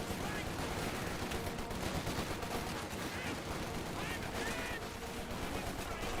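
MG42 machine gun fire in the game Company of Heroes 2 mixes into a dense, continuous battle din of gunfire and explosions, with rapid bursts throughout.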